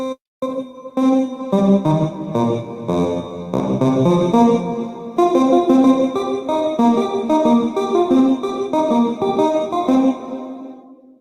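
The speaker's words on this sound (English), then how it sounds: "it was just combination of reverb and voice sample" Voice sample run through a reverb effect on a Helix processor, producing dense, shimmering layered tones that sustain and wash into each other continuously, loud and up close with no speech.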